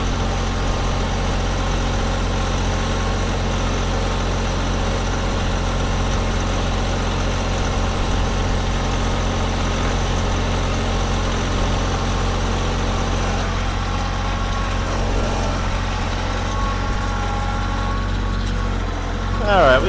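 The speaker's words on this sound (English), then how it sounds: "Let's shut down the tractor here." A tractor engine runs steadily at idle on a homestead potato-planting job, a constant low diesel rumble with a faint steady hum, close by and unbroken.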